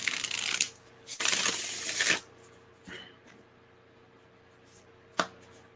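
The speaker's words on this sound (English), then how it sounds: "one last shuffle." A deck of tarot cards is shuffled in two brisk riffling bursts, followed by a few soft isolated card taps and a sharp flick near the end, all close and clear with no speech.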